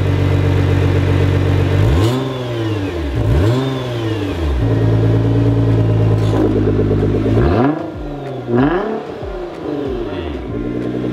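A Nissan GT-R engine revs hard with its exhaust valve open, rising in repeated loud swells and dropping back to a steady idle, several blips in a row close by.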